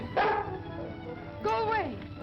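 Dog sounds from the 1938 film Call of the Yukon, with two separate yelping, whining barks about a second apart, close and fairly loud over a faint background.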